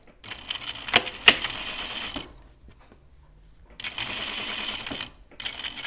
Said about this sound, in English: I'm going to sew straight down here, just to the left of all these seams, and then pivot and go around the pocket.